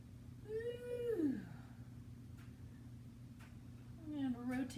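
A cat meows twice during a home yoga session, one drawn-out rising and falling meow near the start and a shorter one near the end, clear and close over a steady low room hum.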